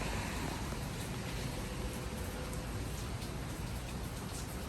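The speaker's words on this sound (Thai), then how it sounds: "ท้องฟ้า มืดมีฝน เริ่มตก" Steady early-morning rain falling under a dark sky on a cool holiday, a continuous dense hiss of drops close by with no breaks and no voices.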